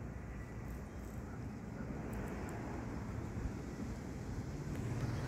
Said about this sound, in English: Alright, the winds are picking up